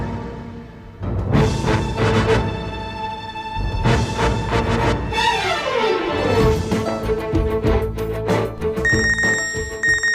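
A home telephone bell rings in repeated bursts, loud and near, with ringing tones layered over a busy room background.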